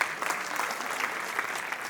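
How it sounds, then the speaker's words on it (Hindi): A theatre audience at a staged play claps for the actors, a steady, dense wash of applause that carries on evenly for the whole stretch. "एक बार जोरदार तालियां हो जाए हमारे सारे कलाकारों के लिए।"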